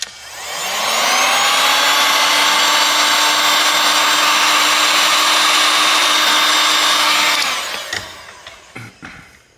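A heat gun blows a steady, loud airy whoosh with a whining tone while warming the power and volume flex cable of a MaxWest Astro A63 phone, running for about seven seconds before cutting off, followed by a few faint clicks.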